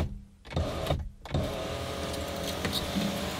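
Hyundai Veloster Turbo panoramic sunroof closing, a motorized whir that stops and restarts twice in brief bursts, then runs continuously to the end, close and moderately loud.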